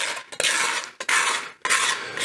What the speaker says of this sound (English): this scraper's kind of doing a good job just getting some of this grime out